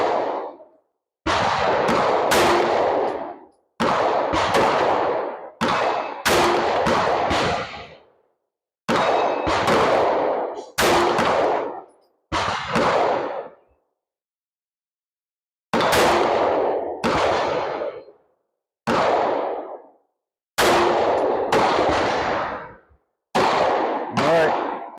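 A Sig P365 X-Macro pistol fires 124 grain defensive ammunition at a range, loud sharp shots in quick bursts of two or three with brief silent pauses between groups, each crack ringing out close and alone.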